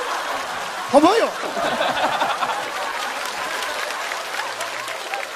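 Applause and light chuckling from a stand-up comedy audience rise in a brief burst, then settle into a sustained crowd wash while a voice speaks over it.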